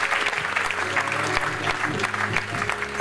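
Church congregation applauding, dense sustained clapping from many hands filling the room, steady and fairly loud throughout with faint voices mixed in.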